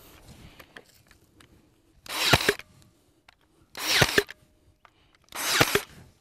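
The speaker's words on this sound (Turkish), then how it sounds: "5 santimlik çivi çakıyorum şu anda." A pneumatic nail gun drives 5 cm nails into a grafted fruit tree, three loud, sharp bursts spaced about two seconds apart with quiet gaps between.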